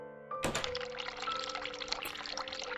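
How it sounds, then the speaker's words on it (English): A sink tap in The Cat Lady video game is turned on and runs cold water, a steady broadband rush that starts with a thunk and continues without talk, over a quiet background tone. "Let's turn on some cold water."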